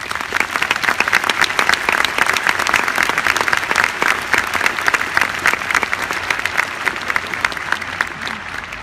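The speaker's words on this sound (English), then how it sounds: "Let's all give them a round of applause." Sustained applause from a sizable audience, dense steady clapping filling the whole stretch without letting up.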